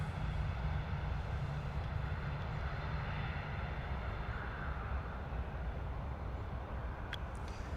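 Ryanair airliner touching down at London Stansted, a distant, fairly quiet jet rumble that holds steady throughout, with a faint brief click near the end and no talking.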